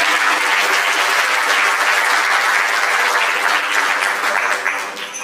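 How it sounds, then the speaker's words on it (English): Loud, dense applause from a counselling conference audience, many hands clapping steadily and close, tapering slightly toward the end with no voices over it. "A round of applause."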